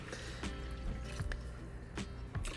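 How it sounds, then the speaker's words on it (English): Hot and cold water run together for focaccia dough with a steady close pour, and a few drips and splashes land in the liquid now and then, with no talking. "I'm combining hot and cold water so it makes it warm."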